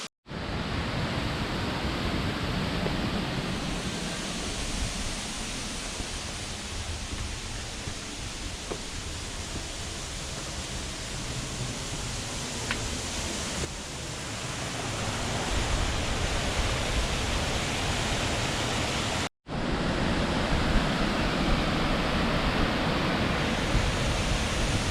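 A waterfall in Pipestone, Minnesota roars as a loud, unbroken broadband rush of falling water, close and constant, with one brief cut near the end before the steady torrent resumes.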